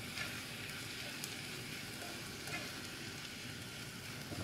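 Dried herbs, paprika and black pepper stirred through zucchini in a hot pan, a soft, continuous low sizzle with faint scraping, quiet and even throughout.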